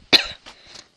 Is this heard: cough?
yes